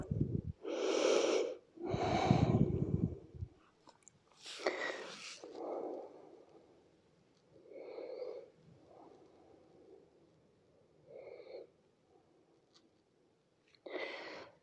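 Deep, slow breaths during yoga relaxation, a series of close, audible inhales and exhales with soft wheezy and snorting textures, growing gentler and more spaced out toward the end.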